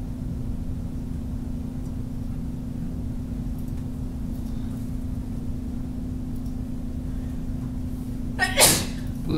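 A single short sneeze bursts out near the end, fairly close and loud, over a steady background hum with no talking.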